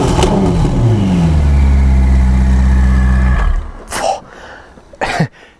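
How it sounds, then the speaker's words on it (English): A black Novitec Ferrari F8 N-Largo with sport catalysts and a complete Novitec sport exhaust, flaps open, revs hard in a loud, sustained roar for over three seconds, then cuts off, followed by two brief bursts of noise. "a complete Novitec Sport exhaust system. This is with the flaps open."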